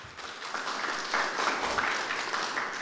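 An audience applauds at a farmers' question forum, steady clapping of a sizable crowd heard from moderately far, filling the whole stretch without speech.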